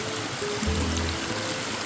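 Running water flows through muddy, rocky ground in the Amazon rainforest, a steady close broadband rush with a low rumble beneath and no voices.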